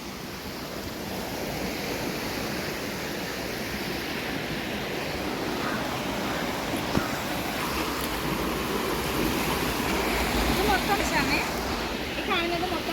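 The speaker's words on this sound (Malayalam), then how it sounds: "ഇതുവഴി വെള്ളം വരുത്തുണ്ട് ഇത് കണ്ടോ" Water flowing along a small rural stream beside paddy fields, a continuous close rushing babble that holds steady throughout with no pauses.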